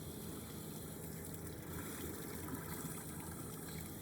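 Warm, lukewarm water poured into a kitchen container for thinning a bearnaise sauce, a steady close trickle and splash running evenly without a break.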